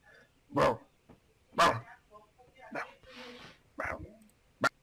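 A person imitates a dog barking with their voice: several loud, sharp bark-like yelps spaced about a second apart, near and alone, with a short breathy noise in between.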